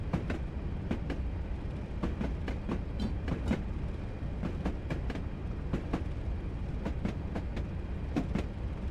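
A locomotive running on the West Highland Line in a train simulator game, with a continuous low rumble and a regular clickety-clack of wheels over rail joints, steady and close throughout.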